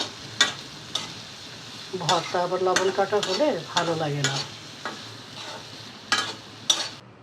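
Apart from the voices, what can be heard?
dried fish (shutki) frying and being stirred in a pan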